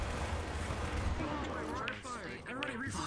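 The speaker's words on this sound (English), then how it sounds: "Under fire!" Bursts of gunfire crackle through a video game match, dense and continuous at first, then thinning, with a player's voice talking over the shots.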